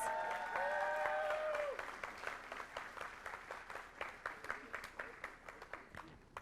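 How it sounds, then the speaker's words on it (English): Audience applause at a school board meeting honoring a student, a steady round of clapping that thins into scattered individual claps as it fades, with a sustained tonal sound early on. "Let's give Rachel another round of applause."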